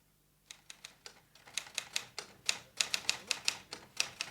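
Typewriter keys clacking in a radio drama, a brisk run of crisp, close metallic strikes in an uneven rhythm, about twenty taps in quick succession with no voices over them.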